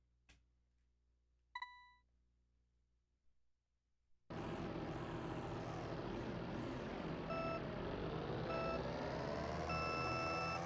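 Sharp electronic beeps from the Super Mario Kart video game: a few isolated beeps early on, then a loud, continuous engine-like game sound with repeated tonal beeps layered over it.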